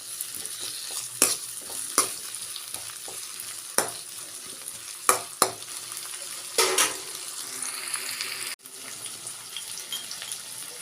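Methi greens, chana dal and potato fry in a pan with a steady sizzle, while a spoon stirs and scrapes in scattered sharp clicks and taps close by.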